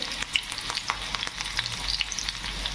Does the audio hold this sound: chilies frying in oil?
yes